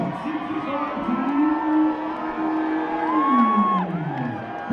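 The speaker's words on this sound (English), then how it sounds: "A lot of cheering for him." A crowd at a December 2021 fight night cheering and whooping loudly for a fighter, a sustained roar of voices with rising shouts, close and continuous.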